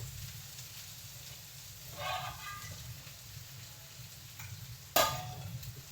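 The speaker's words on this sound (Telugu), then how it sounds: "ఇట్లా పలపల సిచ్చులాగా ఉండాలండి" Food frying in a pan gives off a quiet, soft sizzle, with a short swell of hiss partway through and a sharp clink-like burst followed by crackling near the end.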